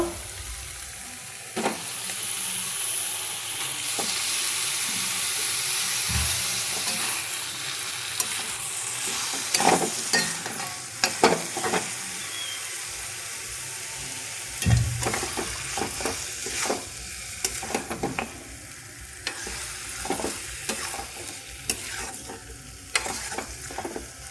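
Mutton pieces fry and get stirred in a pan for mutton kosha, with a steady sizzle broken by repeated scraping and clattering stirs up close, and no talking.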